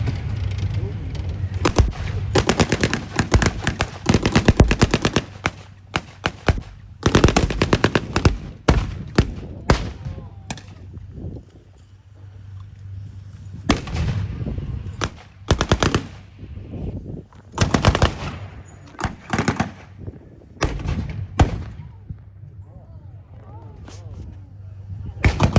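Gunfire rattles through a tank reenactment battle, with long bursts of loud machine-gun fire, scattered single shots and occasional heavier reports, sometimes close and sometimes more distant, the firing coming in uneven waves.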